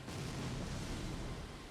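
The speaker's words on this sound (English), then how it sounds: "this should be a chain reaction of explosions that we can enjoy for a minute while we sip our coffee" Poison-triggered explosions chaining through enemies in Elden Ring form a steady, dense low rumble that holds at a constant loud level throughout, without distinct separate blasts.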